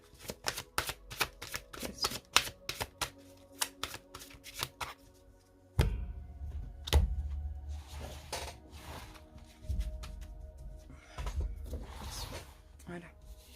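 Tarot cards shuffled with quick rhythmic riffling snaps, then slid and drawn from the deck more slowly, close and fairly quiet, while a voice talks softly over the later handling.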